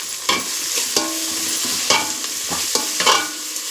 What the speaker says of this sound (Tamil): இங்கே வெங்காயம் வதங்குது.